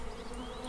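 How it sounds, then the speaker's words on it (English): Cartoon sound effect of bees buzzing, a dense, continuous drone that holds steady and fairly loud throughout the short moment. "So while they may seem quite scary, just remember, bees will typically leave you alone as long as you leave them alone."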